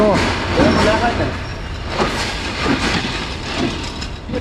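A train pulling into a station, its rumble and wheel clatter rising and falling under crowd noise and voices nearby.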